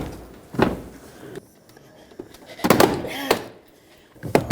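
A few sharp plastic pops and thunks as the front door panel of a 2008-2020 Dodge Grand Caravan pries loose from its clips, with creaking and rattling between the snaps, close up.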